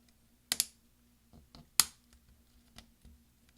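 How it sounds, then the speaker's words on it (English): A MacBook Pro key from a 13-inch Unibody laptop is pressed onto its clips, giving two sharp snapping clicks followed by several softer taps and presses, close and quiet in a still room. "So when you push down, you're trying to hear it snap"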